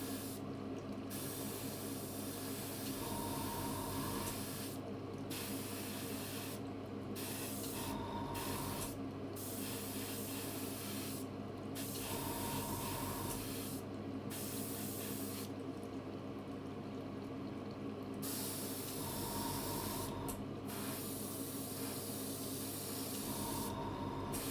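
Short repeated bursts of airbrush spray laying lacquer-like primer onto a scale model, hissing on and off over a constant background hum.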